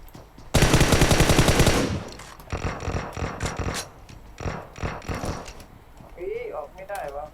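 Bursts of automatic gunfire from the PUBG Mobile battle royale game, a loud sustained rattling volley near the start followed by shorter scattered shots and clatter, with faint voices talking underneath.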